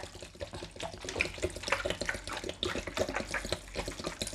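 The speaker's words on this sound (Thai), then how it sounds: "ใส่น้ำหนึ่งลิตรกับบักโบแบรน" One litre of water poured over about three kilograms of blueberries, a steady splashing, gurgling liquid stream running continuously and close by with no talking.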